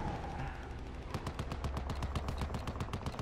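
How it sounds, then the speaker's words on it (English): Rapid automatic gunfire from the video game Battlefield Hardline rattles in dense bursts, loud and close, with a steady run of sharp repeated shots that kicks in after a brief quieter opening. "What is that guy shooting at?"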